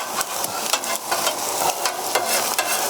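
An egg sizzles on a hot flat top while being stirred and chopped, a steady frying hiss punctuated by quick rhythmic scrapes and taps of a spatula, close and moderately loud, with no talking.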